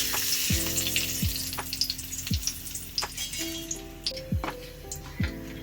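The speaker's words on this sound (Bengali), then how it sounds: "কড়াইতে তেল দিয়েছি গরম হয়ে গেছে তো দিয়ে দেব তেজপাতা এলাচ দারচিনি লবঙ্গ ফোড়নে দিয়ে দেব" Whole bay leaf, cardamom, cinnamon and cloves sizzle softly in hot oil in a kadai. Quiet crackling runs alongside occasional light clinks and taps.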